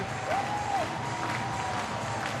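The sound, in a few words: baseball stadium crowd cheering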